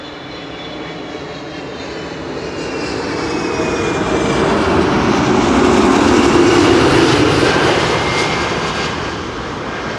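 A Transavia Airbus A321neo lands at Schiphol, its loud engine roar swelling as it passes close by over about ten seconds, then easing slightly, with no voices.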